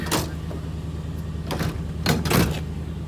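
A converted bus loaded with bolted-down couches and skateboards idles as it warms up, a steady low engine hum running throughout, broken by a few brief bursts of rattling and clunking.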